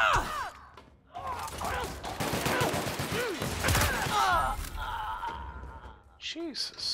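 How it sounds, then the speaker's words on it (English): Gunfire in The Outer Worlds erupts as a rapid burst of shots mixed with game effects, loud and cluttered, with people gasping and talking over it. "Jesus, stop shooting at us."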